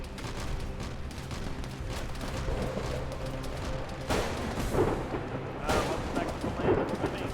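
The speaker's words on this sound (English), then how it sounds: "Watch out, grenades are falling." Grenade blasts and rapid gunfire in a military video game operation, a continuous rumble of distant shots with several heavier explosions in the last few seconds, while players talk over the comms.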